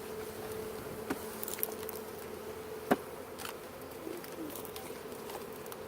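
Honey bees drone steadily around an open beehive at a Vermont beekeepers' workshop, a dense, continuous buzz close by with a few individual bees zipping past the microphone.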